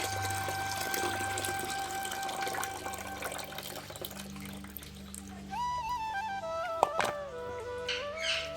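Water pours and trickles over dal being washed in a kitchen, a steady running, splashing wash with brief clinks of a vessel near the end, close and fairly quiet.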